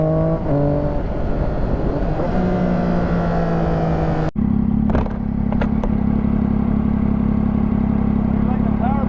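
A motorcycle engine runs loud and close, its revs climbing in steady harmonic sweeps, then after a sharp break the pitch drops into a steady lower drone as the rider upshifts without the clutch; clicks and clatter come through in the second half.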